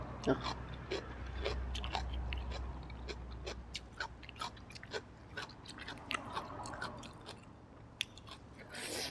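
Someone chews grilled Isan sausage with fresh chili and pickled ginger, with close, repeated wet bites and crunches in a steady rhythm and faint murmuring in between.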